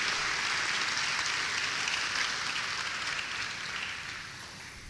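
Audience applause in a large gathering, a dense even roar of clapping that holds steady and slowly fades, with no voices on top.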